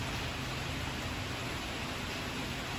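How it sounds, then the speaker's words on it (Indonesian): Light drizzle falls outdoors around a parked black 2011 Daihatsu Xenia Xi 1300 manual, a steady soft hiss of rain that stays even and unbroken throughout, with no voices. "Lagi hujan, teman-teman, gerimis."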